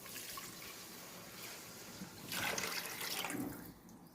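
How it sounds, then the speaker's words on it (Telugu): Water poured into a cooking pot for bagara rice, eight cups for four cups of rice, a broadband rushing pour that swells midway and then tapers off, close and alone without talk. "4 కప్పుల బియ్యానికి 8 కప్పుల వాటర్ యాడ్ చేసుకోవాలండి."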